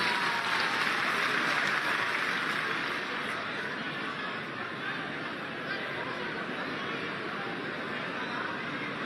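A crowd at a baby feeding ceremony claps for the infants, a broad, continuous wash of applause mixed with chatter and murmuring voices, fairly distant and steady throughout.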